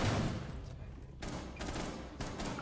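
Rapid gunfire in the tactical shooter Rainbow Six, a quick burst of several close shots followed by a few more scattered cracks, fairly quiet in the mix.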